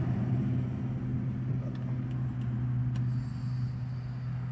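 A Chevrolet Chevelle in Forza Horizon 5 spins its tires in fifth gear, a steady, loud low engine drone and rumble that holds evenly throughout with no talk.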